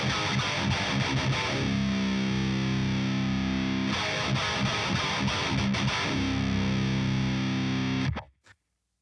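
A loud, heavily distorted electric guitar riff plays continuously with a driving chugging rhythm, then cuts off abruptly near the end.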